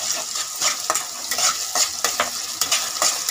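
Ginger-garlic paste frying with onion and tomato in a pan for spicy goat mutton curry, a steady sizzle broken by repeated scraping stirs and light utensil clinks against the pot, close and fairly loud with no voices.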